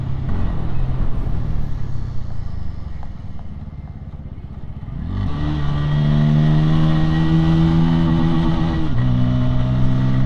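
A Bajaj Pulsar N150 motorcycle rides on the road with steady engine drone and wind rush, then revs up into a louder, higher, sustained pitch, close and continuous with no talk.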